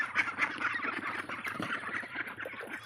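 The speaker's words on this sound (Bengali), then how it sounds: "হাঁস আমার ওইখানে ঘেরার মধ্যে রাখা আছে" A small flock of domestic ducks kept in a pen on a newly started home duck farm quack and honk together. The calls are a dense, continuous chorus at moderate distance with no voices.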